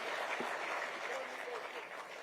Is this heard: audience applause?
yes